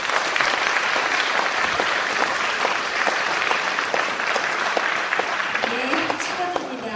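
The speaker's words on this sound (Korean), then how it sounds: "자, 우리 박수로 청해 듣겠습니다." A church congregation gives steady, full applause at a fortieth-anniversary ordination service to welcome a duet of a deacon and a musical actress, and the clapping fills the whole stretch at even loudness.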